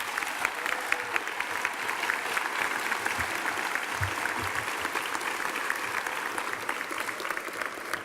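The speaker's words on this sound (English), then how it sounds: "Let's give these candidates a big round of applause." Audience applause for graduating high school seniors at a 2019 commencement ceremony, steady sustained clapping from a large crowd throughout, fairly distant and even in level.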